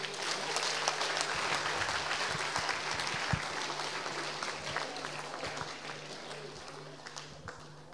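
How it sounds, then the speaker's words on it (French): An audience at a university bachelor's degree graduation ceremony applauds, with dense, sustained clapping and scattered voices that gently taper over about eight seconds. "Je pense que vous pouvez vous applaudir."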